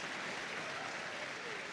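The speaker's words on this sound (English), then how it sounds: "Real cheer there for the Irish setter" Crowd at a championship dog show (Crufts gundog group) cheering and applauding for an Irish setter, a steady wash of claps and cheers filling the whole stretch, fairly distant and even in level.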